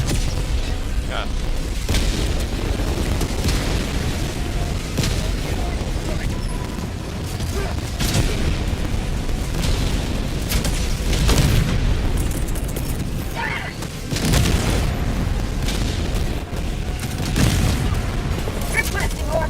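Orbital strike explosions rumble in Helldivers 2, repeated heavy booms and bursts layered over constant battle noise and gunfire, with players talking throughout.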